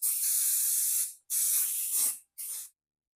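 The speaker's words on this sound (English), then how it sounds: "And then I'll spray this." Aerosol adhesive sprayed during a Volkswagen headliner install, three close, loud bursts of hiss, the first two about a second long and the last one shorter, with short silent gaps between them.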